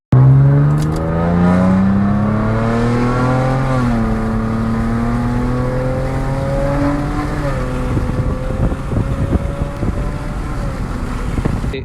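Nissan Maxima, 7th generation, with mid and rear mufflers deleted and a CVT, accelerating hard: loud, droning exhaust rising steadily in pitch, dipping briefly at a shift point, then climbing again with wind noise toward the end.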